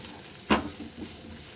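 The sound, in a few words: ingredients frying in pan for fish curry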